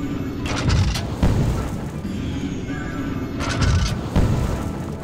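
Cartoonish explosions in the LEGO Harry Potter video game go off in a series of deep booms with short crackling tails, about four heavy blasts spread over a few seconds, loud and close.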